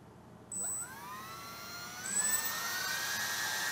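Electric ducted fan motors on a homemade EDF quadcopter spin up with a rising whine that climbs in pitch, joined by further fans around two seconds in. A steady, loud, jet-like whir is heard with no speech.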